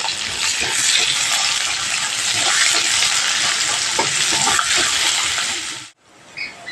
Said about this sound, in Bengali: পেঁয়াজটা দিয়ে ভালো করে একটু ভেজে নেব